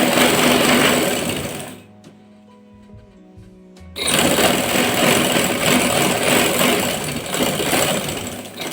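An electric sewing machine stitches along the edge of salwar fabric with a loud, rapid whirring rattle, pauses for about two seconds, then resumes steady stitching, close up with no talking.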